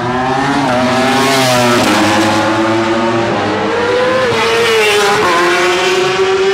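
A high-revving superbike racing motorcycle screams past the pit wall, its engine note rising and dropping through several quick gear changes, loud and continuous with no talking.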